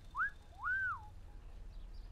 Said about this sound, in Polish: w tej grze pewnie tych gwizdków trzeba używać